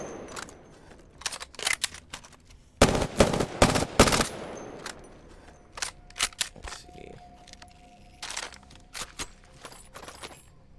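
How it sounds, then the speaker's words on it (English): Prowler weapon firing in Apex Legends, with scattered single shots and short bursts and a dense, loud volley in the middle, then sparser shots trailing off. "you're firing the weapon to get a feel for it"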